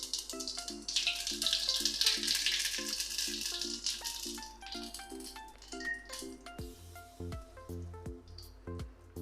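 White cumin seeds crackle and sizzle in hot oil in a kadai, a bright frying burst at first that settles into quieter pops, with instrumental music playing steadily underneath.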